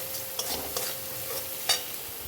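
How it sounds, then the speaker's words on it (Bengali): Spices with salt and turmeric sauté in a pan, a gentle steady sizzle broken by a few brief stirring scrapes and one sharper clatter toward the end. "এবারে আমি একটু ভালো করে আবার একটু কষিয়ে নিই।"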